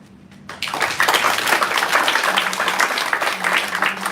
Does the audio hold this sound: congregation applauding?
yes